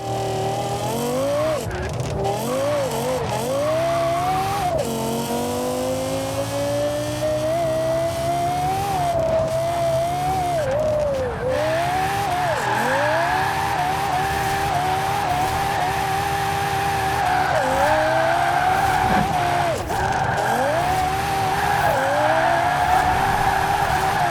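Car with a swapped engine driven hard in Forza Horizon 4, engine revving up and down through repeated shifts, with tire squeal and skidding over a steady game-audio bed, loud and continuous.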